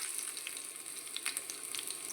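Crushed garlic with its peel sizzling in hot oil for rasam, a steady faint crackling fry with tiny pops, no voices.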